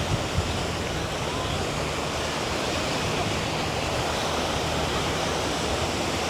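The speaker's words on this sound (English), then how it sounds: "there's a lot of surf. It's actually the most surf I can remember." Heavy ocean surf at Playacar beach in Playa del Carmen roars as a constant wash of breaking waves, broad and steady without distinct crashes.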